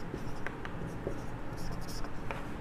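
Pen writing on paper while working out a class 12 chemistry percentage problem, a soft continuous scratching with faint strokes and taps, close up over low background noise.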